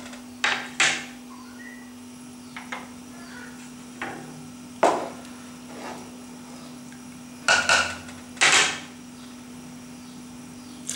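A metal spoon knocking against a pot of thickening chicken soup, a few separate clinks and scrapes spread out over a steady low hum.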